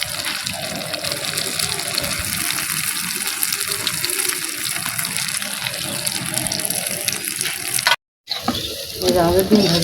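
Eggs fry in a pan with potatoes for a home-style Bangla dish, giving a loud, dense, continuous sizzle up close, broken by a brief silent cut near the end and some stirring after it.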